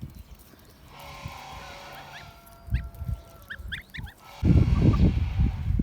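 Kholmogory goslings honk in several short bursts over quiet background, followed by a louder stretch of low rustling and handling noise near the end.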